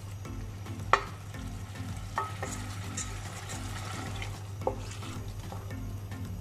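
Tomatoes and masala are sautéed in a pan at low volume, a soft sizzle running beneath a steady low hum, with a few sharp spatula knocks spaced a second or two apart and no voices.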